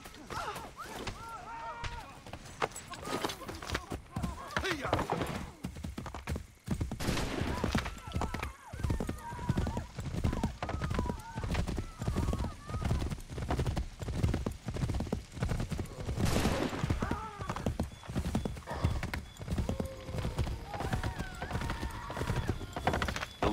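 Horse hooves clip-clop steadily with occasional whinnies in Assassin's Creed 3's Tyranny of King Washington campaign, near and continuous, mixed with game effects and bursts of speech throughout.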